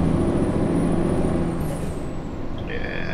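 Heavy truck engine in a driving video game, pushed to high RPM, a loud steady low drone throughout, with a hissing air-brake release near the end.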